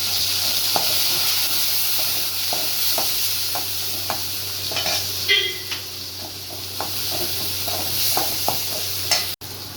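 Garlic and onion frying in a pan for a Kerala village-style bottle gourd dish, a steady close sizzle with repeated stirring taps and scrapes, no talking.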